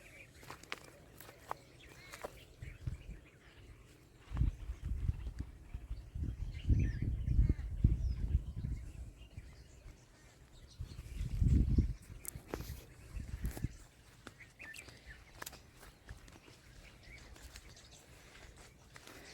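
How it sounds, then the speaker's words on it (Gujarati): Faint sparrows and other birds chirp and call in the distance while footsteps shuffle nearby in a quiet outdoor village setting amid forest. "એકદમ શાંતિથી સાંભળશો તો તમને ચકલાનો પક્ષીઓનો અવાજ આવતો હોય છે"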